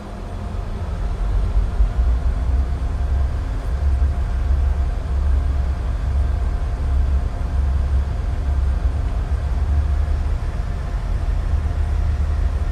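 Jet engines of a Boeing 757 spool up for takeoff in a flight simulator game, a loud, steady low roar that holds constant without a break.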